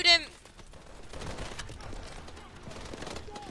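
Rapid gunfire in the Call of Duty: Advanced Warfare campaign rattles in dense bursts beneath steady game noise, with a sharp electronic chirp at the start.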